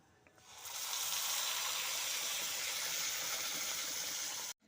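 Onion, tomato, melon seed, poppy seed and chili paste hits hot butter with whole garam masala, giving a loud, steady sizzle that rises quickly and holds close and continuous before cutting off abruptly.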